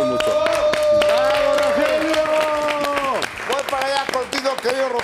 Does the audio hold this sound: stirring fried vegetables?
no